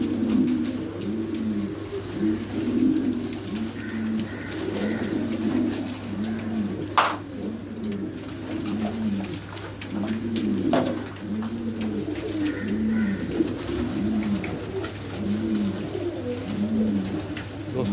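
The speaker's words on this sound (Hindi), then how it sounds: "कैसे शौक़ से जो है ना ये बर्ड माशाल्लाह दाना खा रहे हैं" A flock of pigeons feeding on grain, giving steady, repeated soft coos in rolling overlapping phrases, close and continuous, over a constant low background hum.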